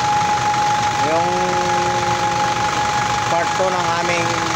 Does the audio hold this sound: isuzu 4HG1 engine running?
yes